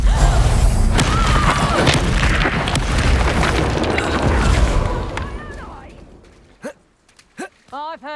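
A loud rumbling blast from the Confringo spell in the Hogwarts Legacy video game, a sustained booming roar that fades over several seconds, followed by short voiced grunts and effects.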